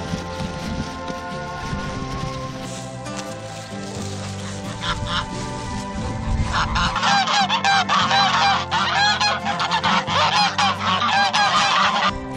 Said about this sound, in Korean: 잘했다고 칭찬해주는 거위들.